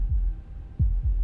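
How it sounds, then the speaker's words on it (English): A heartbeat sound effect from the horror game Slay the Princess thumps low and heavy in three deep beats, spaced unevenly over a humming background with no speech. "That was the sound of a heartbeat, followed by another."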